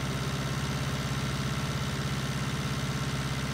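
A Massey Ferguson tractor engine in Farming Simulator 19 on a bumpy, rutted farm track, running at a steady low, throbbing rumble with a fast regular pulse, close and constant.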